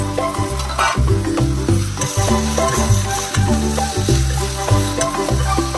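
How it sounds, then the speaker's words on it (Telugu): Whole garam masala, coriander seeds, cumin and chopped tomatoes fry in a pan, sizzling and being stirred under loud, rhythmic background music. "ఒక 5 నిమిషాలండి ఫ్రై అయితే చాలు"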